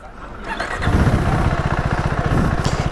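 A KTM 390 single-cylinder motorcycle engine fires up and settles into a loud, close, rapid thumping idle with a steady pulsing beat.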